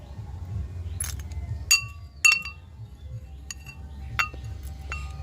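Imitation jewellery chains scooped with a spoon into a bowl give a few light, scattered metallic clinks and one or two sharper taps against the dish, quiet and close, with no talking.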